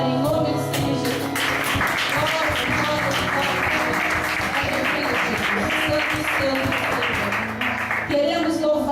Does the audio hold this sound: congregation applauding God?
yes